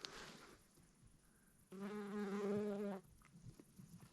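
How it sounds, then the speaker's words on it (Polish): In near silence in a forest, a bumblebee buzzes close by for about a second, a low droning hum that starts and stops abruptly, with faint rustles around it. "To jest trzmiel."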